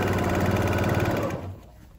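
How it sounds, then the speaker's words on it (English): A sewing machine stitches placemat fabric in a fast, even mechanical whir with a rhythmic needle pulse, then slows and stops about two-thirds through, leaving a quiet tail. "I just sewed over my pin there"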